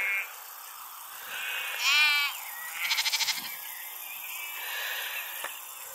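Several sheep bleats at a distance, one wavering and one rapid pulsing call, separated by quiet outdoor background.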